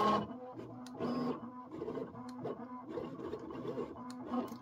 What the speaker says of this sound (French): Donc ça va imprimer.